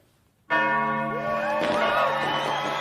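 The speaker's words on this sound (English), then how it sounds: "So the bells ring in the new year of 1968." Church bells ring in the new year of 1968, a loud, resonant clang striking in after a moment of silence and sustaining with rich, overlapping tones, a second strike layering over the first.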